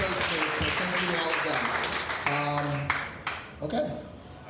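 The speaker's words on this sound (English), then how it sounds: "If we could get one more round of applause for him." Applause at an air hockey tournament award ceremony, a crowd clapping steadily indoors while someone speaks over it, with a few louder individual claps near the end.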